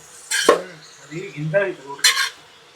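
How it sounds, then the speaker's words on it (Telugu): Cabbage curry with chana dal being stirred in a pot too small for it, giving a few scraping clatters of a spoon against metal and soft shuffling of the vegetables, close and fairly loud with short pauses between strokes. "గిన్నెలో తిరుగుతలేదురా క్యాబేజ్ ఎక్కువైనట్టున్నది మగ్గాలి మగ్గినాక తిరుగుతుంది"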